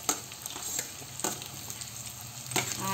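Onion pieces stir-fried over high heat in a pan for restaurant-style chilli chicken, giving a steady close sizzle with a few sharper scraping stirs, no talking.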